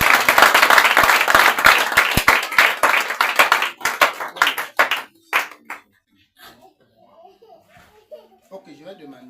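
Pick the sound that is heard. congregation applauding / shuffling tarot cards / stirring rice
congregation applauding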